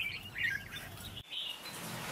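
A red-whiskered bulbul kept as a decoy bird chirps in a cluster of bright, quick notes near the start, then gives a few fainter calls over steady background hiss.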